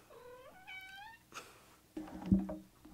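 A pet cat meows twice in quick succession, then gives a short louder caterwaul-like yowl, all close by with no talking.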